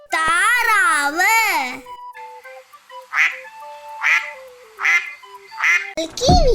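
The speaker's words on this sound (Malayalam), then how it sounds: "താറാവ്" A farm duck gives a steady run of four or five loud, close quacks over light music, after a brief crowing call at the start.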